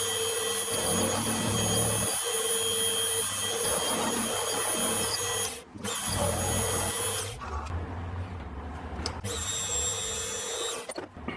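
A drill whines steadily while boring holes in a metal part for a model steam engine, a loud continuous high-pitched motor hum broken by a couple of short pauses and restarts.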